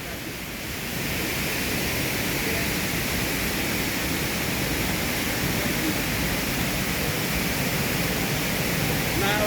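Ibom Waterfalls at Arochukwu pour down in a constant broad roar of rushing water, loud and close, swelling in the first second and then holding steady.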